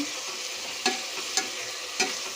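Tomatoes frying in a pan with rock salt for chicken biryani, a steady hissing sizzle with three distinct spatula scrapes spaced about half a second apart, close and clear.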